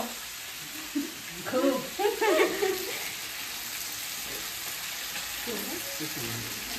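Food fries in oil in a pan, giving a faint, steady sizzle throughout while a few short voices talk briefly over it near the start.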